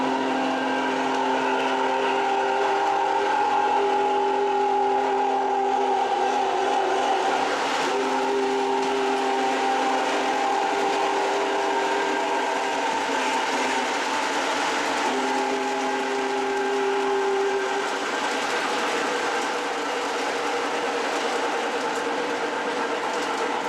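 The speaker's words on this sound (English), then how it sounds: "it's time to do something we haven't done in too long, and that is a whistle battle" Model train engines at a train show sound their whistles one against another, long sustained multi-tone blasts overlapping with brief breaks, loud and steady against a mechanical hum.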